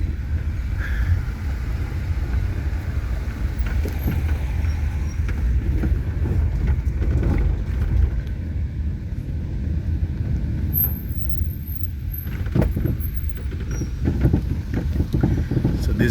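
Car driving along a road in Jamaica after hurricane damage, with a steady low rumble of engine and tyre noise inside the cabin and some wind buffeting, constant and close with no talking.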